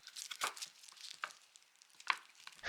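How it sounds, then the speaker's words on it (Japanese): Carrots are cut into pieces with a knife on a board, giving several quiet, irregular chops and crisp taps close by, with no talking. "人参も同じくらいの大きさに切ろう。"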